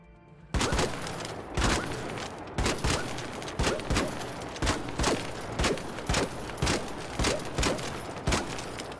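The Il Toro gun in ARC Raiders fired with a kinetic converter: a steady string of around fifteen heavy, sharp shots about half a second apart, loud and close with no talking.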